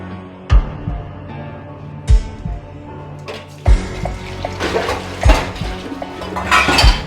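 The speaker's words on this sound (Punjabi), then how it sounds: "ਚੱਲ ਭਾਂਡੇ ਮਾਂਜਣ ਲੱਗ ਪਈ ਐ ਰਸੋਈ 'ਚ" Dishes being washed in a home kitchen: loud metallic clanks of pots and utensils knocking together at irregular intervals, over a background of splashing and running water.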